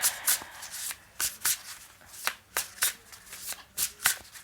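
Tarot cards being shuffled and drawn, a close series of crisp riffling snaps and flicks in irregular bursts, heard on their own with no talk.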